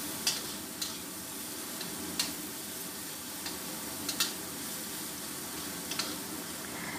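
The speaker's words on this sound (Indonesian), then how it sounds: "Tumis sampai bumbu ini harum." A spice paste is stir-fried in a pan, giving a soft steady sizzle broken by periodic sharp scrapes and taps of the stirring utensil against the pan.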